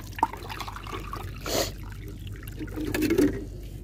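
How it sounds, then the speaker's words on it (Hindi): About one litre of water poured from a mug into a pot holding a drying rose plant, heard as a brief trickling splash midway and a longer gurgling pour near the end, fairly close and quiet. "1 मग पूरा 1 लीटर पानी डाल दूंगी"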